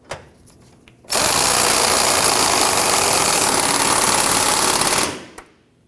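Impact gun running down fuel pump bolts on a Ford F-150, a single steady burst of rapid hammering buzz lasting about four seconds, close and loud, with quiet shop sounds before and after.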